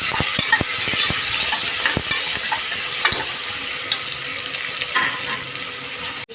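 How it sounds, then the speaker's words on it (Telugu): Tomatoes with salt and turmeric stirred in a hot pan, a steady sizzle under repeated sharp scrapes and clinks of the spoon against the pan, close and fairly loud, with no talking. "ఇప్పుడు బాగా మిక్స్ చేస్తున్నాం."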